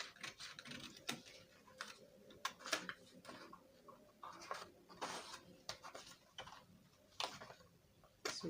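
Scissors snipping through a paper corset pattern to free the center front piece, a run of sharp, close clicks and snips in an irregular rhythm with no talk.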